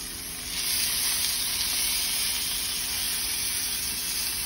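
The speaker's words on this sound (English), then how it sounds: "It's gonna sizzle." Sesame-crusted tuna sears in a hot cast iron pan, giving a loud, steady, close sizzle that swells just after the start and holds evenly throughout, with no talking.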